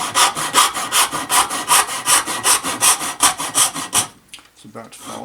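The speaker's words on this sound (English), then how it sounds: "I'm cutting here at an angle." Hand saw cutting a wooden wedge at an angle, rapid rhythmic rasping strokes close up for about four seconds, then stopping with a few light knocks as the piece comes free.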